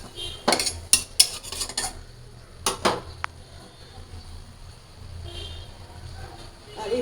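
A metal lid goes onto a pot of boiling vegetables in a home kitchen, giving a cluster of sharp clanks and rattles early on, then quiet simmering background with a faint scrape near the end.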